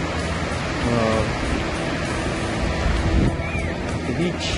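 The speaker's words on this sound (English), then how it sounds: "Look at all those waves." Ocean waves at Carlsbad beach in California roll as a loud, broad wash of surf. Wind rumbles over a continuous roar, and a voice talks briefly over it.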